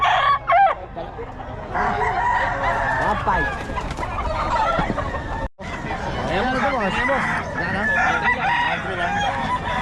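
A rooster crows repeatedly amid clucking chickens, close by, at a poultry market in Bocaue, while people talk and haggle over the birds throughout.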